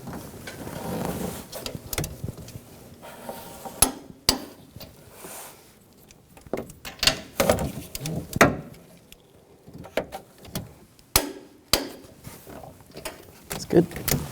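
Clicks and ratcheting of a torque wrench tightening shock bolts on a 2014-2018 GMC Sierra during shock and spring assembly replacement, with scattered sharp metallic taps and clunks amid quiet shop ambience and bursts of voices.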